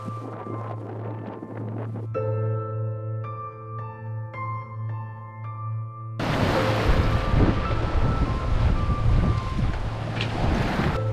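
Strong wind of 15 to 16 knots rushes and buffets against the microphone over a steady low hum, then surges louder with crashing water noise as a sailboat sails on open sea off the Portuguese coast.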